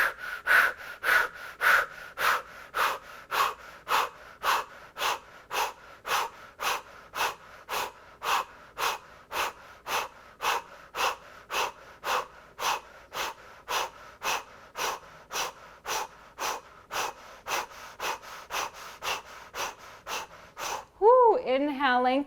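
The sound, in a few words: breath of fire yoga breathing through an O-shaped mouth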